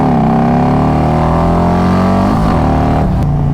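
Harley-Davidson Road Glide with a Stage 2 build and Khrome Werks Outlaw exhaust doing a tire burnout in second gear, its loud, sustained engine roar holding at high revs and then dipping and rising again near the end.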